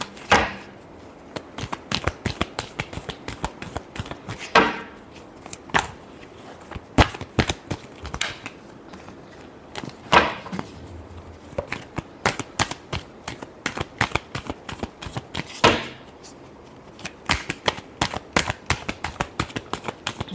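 Tarot cards being shuffled by hand during a Libra love reading, a long run of rapid crisp riffling and slapping with brief pauses between bursts, close and fairly loud, no voices.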